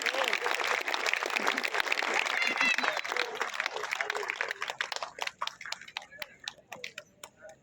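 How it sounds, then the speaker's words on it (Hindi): Loud applause from an audience at a motivational event, dense clapping with cheering voices that thins into scattered claps toward the end. "जोरदार ताली"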